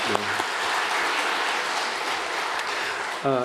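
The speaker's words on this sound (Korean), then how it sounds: "다시 박수 한번 드리겠습니다" A church congregation applauds steadily for a few seconds, with a brief Korean voice at the start and again at the end.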